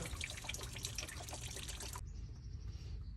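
Liquid coolant trickles and splashes steadily from a 6.7 Cummins truck engine during a turbo replacement job, a continuous close drainage flow that grows quieter and thinner toward the end.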